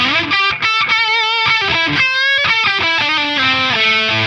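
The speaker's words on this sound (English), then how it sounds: "let's try this distortion pedal and see the maximum gain that we can get from this" Electric guitar played through a distortion pedal with the gain turned all the way up, loud and saturated, with chopped rhythmic chords and a short run of sustained notes, no voice.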